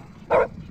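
A single short, loud dog bark rings out close by against a quiet indoor background.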